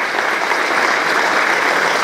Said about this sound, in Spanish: Aplausos para estos jóvenes en su amor para siempre.